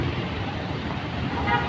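Busy street traffic seen from a second-floor view beside an office, a dense steady roar of passing vehicles with a short horn toot near the end, fairly close and loud.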